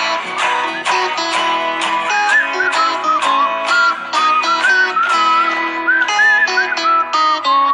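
A bright whistled melody runs through a jingle over rhythmic instrumental backing with steady plucked beats, clear and prominent throughout.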